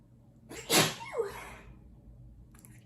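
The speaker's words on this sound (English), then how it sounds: "I had to sneeze." A single loud, sharp human sneeze bursts out near the mic during a makeup session, followed by a brief exhaled trailing tone and then near silence.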